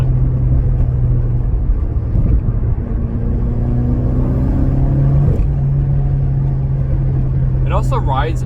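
Steady engine drone and road rumble from a Mitsubishi Lancer Evo X on coilovers cruising with a window cracked open, a constant low hum with wind rush and a short voiced sound near the end.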